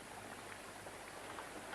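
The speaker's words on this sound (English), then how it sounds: "Well, it's still raining" Steady rain falling outside during a British stage play, a soft continuous hiss that stays faint and unbroken throughout, with no voices.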